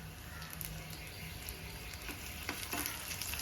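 Sliced onions and dried red chillies fry in oil in a pan for a Kerala-style curry, giving a steady, soft sizzle with occasional stirring scrapes, fairly quiet and close.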